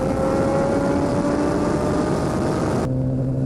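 A BMW S1000RR motorcycle engine accelerates hard, a loud, continuous, rising whine heard close up, then cut sharply near the end into a lower, steadier drone, with no speech.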